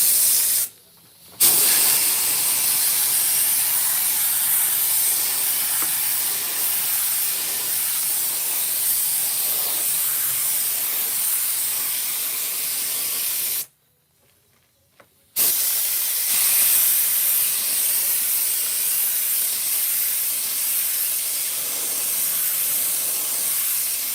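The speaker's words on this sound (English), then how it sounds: "So I'm gonna give that a light spray, and I'll let it tack just a little bit" Spray adhesive is misted lightly onto a panel in long, steady hissing bursts, loud and close, broken by a short pause and then resuming.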